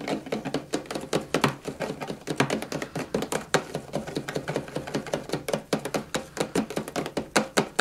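A spoon stirs homemade soap bubble liquid in a container, producing a fast, steady series of close, sharp clicks and taps that continue throughout.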